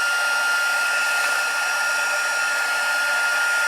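A heat tool blows steadily while heat embossing a stamped papercraft box, a continuous even hiss of hot air that stays loud and close without a break.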